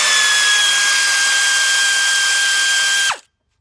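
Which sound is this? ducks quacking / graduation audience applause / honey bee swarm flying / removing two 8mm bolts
removing two 8mm bolts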